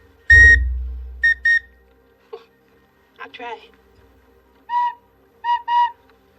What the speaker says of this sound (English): This is a wooden whistle.